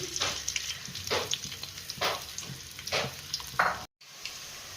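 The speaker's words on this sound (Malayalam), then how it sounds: "വെളിച്ചെണ്ണയാണ് ഞാൻ ഒഴിച്ചിരിക്കുന്നത്" Onions frying in coconut oil for a Kerala chicken mappas, a steady close sizzle broken by soft periodic scrapes of stirring, with a brief dropout near the end.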